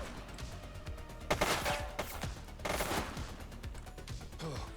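Gunfire in a police video game: repeated bursts of rapid shots over a continuous game soundscape, with two louder volleys near the middle.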